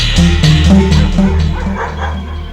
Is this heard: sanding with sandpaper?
no